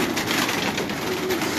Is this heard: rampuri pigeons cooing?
yes